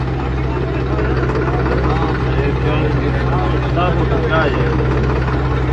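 A tractor strains at full power through floodwater in a farm field, its heavy engine a steady, loud low drone throughout, with voices calling out over it.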